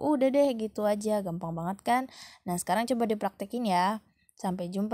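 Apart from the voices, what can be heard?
No distinct noise like a dog, phone or traffic.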